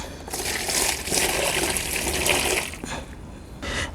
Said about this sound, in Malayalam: ഇതിലേക്ക് നല്ല വാട്ടർ നിറയ്ക്കാം